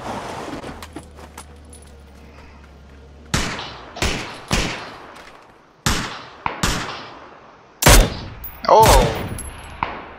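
M249 machine gun fire in PUBG: a string of sharp, loud cracks heard in separate spaced bursts, some close together near the end, with a short exclaimed word partway through.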